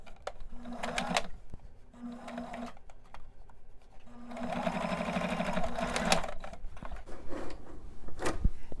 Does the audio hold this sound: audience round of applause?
no